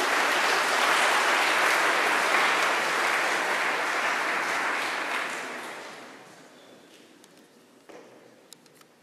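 An audience at Episcopal Academy claps in a full, sustained round of applause that gradually fades out, leaving a quiet room with a few scattered taps at the end.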